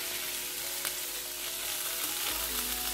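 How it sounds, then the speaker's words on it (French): Homemade burger patties fry gently in a hot pan without added fat, giving a constant, even sizzle with a faint hum underneath and no talking. "Mes steaks sont en train de cuire tout doucement"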